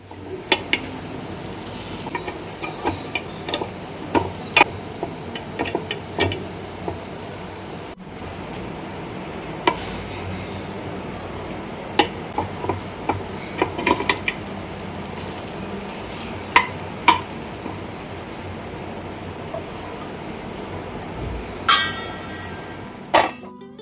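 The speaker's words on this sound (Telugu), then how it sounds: "గుంత పొంగనాలు కూడా ఒక సైడ్ ఫ్రై అయిపోయాయి ఇవి ఇంకొక సైడ్కి ఫ్లిప్ చేసుకోవాలి" Steady sizzling of paniyaram frying in a pan, with scattered metallic clinks and taps as pieces are flipped, no talking.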